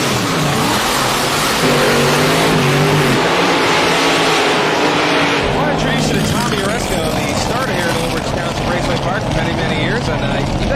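Loud, roaring drag-racing hot rod engine that revs and surges, with the pitch climbing and a dense mechanical growl throughout, close by.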